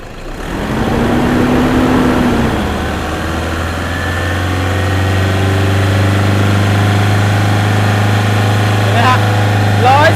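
A car engine idles steadily, then its pitch climbs to 3,000 rpm and holds at a higher, sustained revving drone, loud and close.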